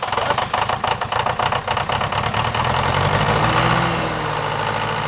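An old engine on an abandoned French farm vehicle runs roughly, uneven knocking pulses for a couple of seconds, then it settles into a steadier, lumpy idle, close and loud with no talking.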